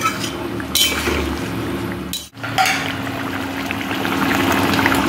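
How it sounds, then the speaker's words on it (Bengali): Raw mustard oil is poured into a simmering fish curry, heard as a short liquid pour and clinks of a container, close and fairly soft over steady kitchen hum, with no talk. "নামিয়ে যেটা দেবো সর্ষের তেল, একটু কাঁচা সর্ষের তেল দেবো।"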